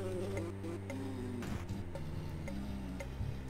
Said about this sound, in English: It sounds like some bees.